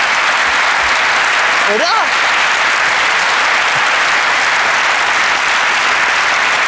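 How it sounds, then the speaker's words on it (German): Loud, continuous studio audience applause at a TV talk show fills the whole stretch as a dense, steady wash of clapping, with a brief spoken word rising over it near the start. "das ist schon dieser Applaus, den auch Johannes Heesters kommt"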